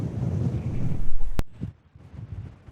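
Strong wind buffets the microphone on the Jurassic coast beside a WW2 radar station memorial, a loud low rumble that cuts off abruptly, leaving a few fainter gusts afterward.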